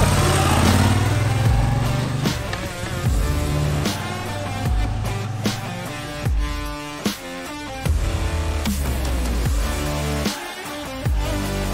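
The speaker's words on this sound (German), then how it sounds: "starten wir die Motoren und geben Gas Richtung Oberhof, Wegscheide" Engines of a group of motorcycles on a pumpkin ride to Oberhof Wegscheide revving and droning loudly and close, with rising and falling throttle sweeps throughout.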